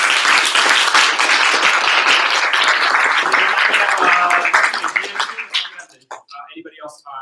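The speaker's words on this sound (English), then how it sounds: "So you give them a big round of applause." Crowd applause at a company gathering, a full, loud burst of clapping that fades out over several seconds, with a few cheers and voices continuing as it dies down.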